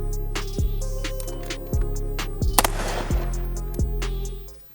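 Rifle shots crack at close range in a close quarter marksmanship drill, headshots fired from the high ready at the 10 meter mark, six loud reports spaced about a second apart over a steady background hum.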